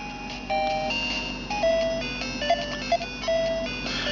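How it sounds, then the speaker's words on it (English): Bouncy, chiptune Tetris music from an original Game Boy plays alone, its bright beeping melody and bass line steady and moderately loud. "So here's Tetris, and I'll just turn up the sound."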